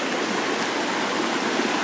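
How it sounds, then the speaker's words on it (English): A small woodland brook near Ash Lake runs full after several days of rain, a loud, dense, unbroken rush of water heard up close and alone. "hopefully you can hear me over that brook. Beautiful little brook. Quite full because of the rain we've had the last few days."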